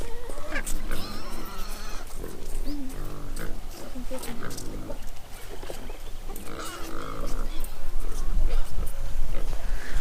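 Pigs oinking and grunting on a homestead, several animals vocalizing in bursts amid constant outdoor noise, with talk mixed in throughout.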